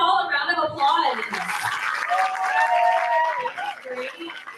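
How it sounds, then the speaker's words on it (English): Middle school students clapping together in a school setting, a steady wash of applause lasting several seconds, with voices and some chatter heard through it. "let's give them all a round of applause"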